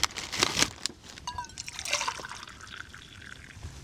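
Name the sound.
water pouring into a cup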